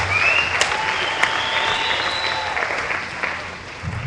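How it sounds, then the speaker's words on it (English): A room full of people claps in a dense wash of applause that starts strong and gradually thins toward the end, with a faint tonal whistle drifting over it. "Let's give these positive change a big round of applause."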